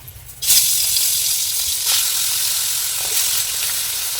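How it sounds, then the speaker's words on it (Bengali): Koi fish dropped into very hot oil, a sudden loud hissing sizzle that starts abruptly and holds steady, with further bursts as more pieces go in. "এক এক করে মাছ ছেড়ে দেবো।"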